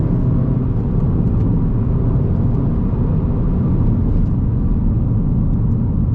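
An APR Stage 1 tuned Volkswagen Golf GTI Mk7.5 with turbo boost accelerates under partial throttle, a dense, steady engine and road roar heard close from inside the car.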